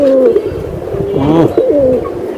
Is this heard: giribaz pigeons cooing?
yes